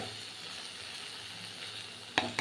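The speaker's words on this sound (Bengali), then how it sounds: "এখন এটা পুরো কড়া করে ভাজতে হবে" Onion, tomato and prawns fry in a pan with a steady, soft sizzle. Near the end there are two short scraping stirs. No one speaks.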